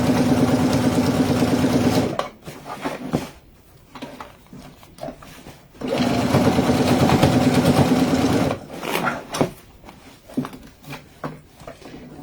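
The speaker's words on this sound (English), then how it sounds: "Take the free arm off your sewing machine." A sewing machine stitches a bag in steady runs of loud, close, rapid mechanical whirring, about two seconds on and then three, with quieter handling noises of fabric and clips in between.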